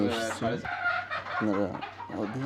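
Farmed chickens cluck in short bursts close by, with harmonic calls repeating at intervals, including a longer rising squawk.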